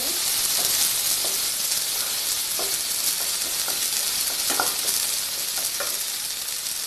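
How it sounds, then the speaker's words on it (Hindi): Broken rice pieces roasting in a pan for saffron rice kheer give a loud, steady dry sizzle and hiss throughout, with faint scattered ticks of grains shifting, no talking. "अब इसमें हम डाल देंगे चावल। इसको 2 मिनट के लिए हमें भूनना है"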